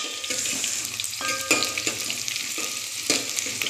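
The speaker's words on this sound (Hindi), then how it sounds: "इसको हमें अच्छे से फ्राई करना है।" Chopped onions fry in hot oil in a home kitchen pan, giving a steady close sizzle with occasional sharper crackles and stirring clatter, and no voices.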